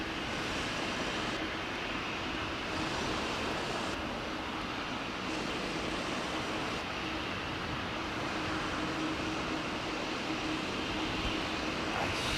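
A jumbo jet on Heathrow's runway 09R, seen up close, its engines producing a loud, steady, broad roar that holds without letup throughout.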